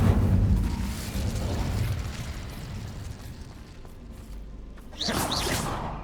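An Incendio fire spell cast in Hogwarts Legacy, a rushing whoosh of flame near the start, a quieter ambient stretch, then a second bright fiery burst near the end.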